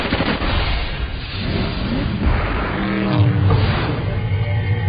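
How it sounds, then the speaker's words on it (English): Loud, dense gunfire and booming explosions from a first-person shooter game on the Wii, a continuous barrage of shots with heavy low rumble, up front and without speech. "As you would expect from a first-person shooter, you do a lot of shooting people on this island."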